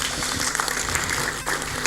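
Audience applause at an Indonesian motivational talk, a dense steady patter of clapping from a crowd that runs through the whole short stretch at moderate level.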